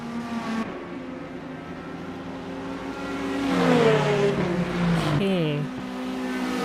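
LMGT3 race cars in the Le Mans Ultimate video game at Interlagos, several engines droning and revving together as they overtake, swelling then dropping with a gear shift, under a commentator's brief remark.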